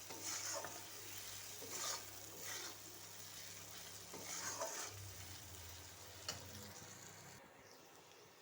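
Onion sautéing in a pan with salt and turmeric for a chana dal curry, a steady soft sizzle with repeated scraping stirs of the spoon, fairly quiet and close, no talking.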